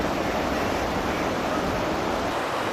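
Water rushes steadily at the Jaldhaka barrage in North Bengal, a dense, continuous roar with no breaks, loud and close, with no voices.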